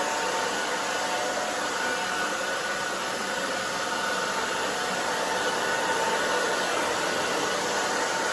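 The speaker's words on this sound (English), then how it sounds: "so you're gonna dry it this way, so you can get that body in there, that volume" A hair dryer runs steadily and loudly while blow-drying a bob haircut for volume, a constant airy roar with no pauses and no talk over it.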